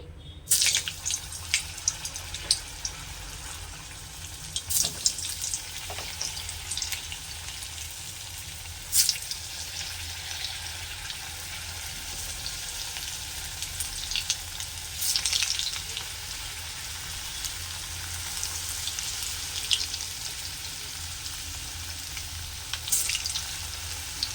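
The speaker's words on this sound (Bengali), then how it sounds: "তেল গরম হয়ে গেছে, এখন পিঠেগুলো তেলের মধ্যে দিয়ে দিচ্ছি।" Mung dal puli pitha dumplings fry in hot oil over a low-to-medium gas flame, giving a steady close sizzle with occasional faint clinks throughout.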